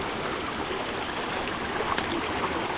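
Cool mountain valley stream flowing steadily, a dense continuous rush of water close by with no break, heard alone.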